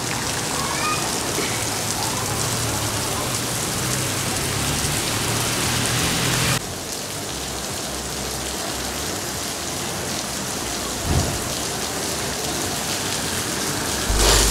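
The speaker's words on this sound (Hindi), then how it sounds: "काफ़ी तेज़ बारिश हो रही है," Heavy rain pours down in Karachi in a dense, constant roar, with a single soft thud partway through and no talking.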